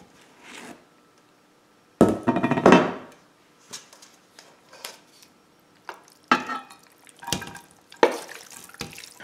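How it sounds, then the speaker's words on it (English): Whole wheat rotini pasta is stirred into a casserole mix in a bowl, giving irregular close clinks, scrapes and wet squelches with pauses between strokes. "is 16 ounces of rotini pasta. I'm using whole wheat. And we want to stir that in."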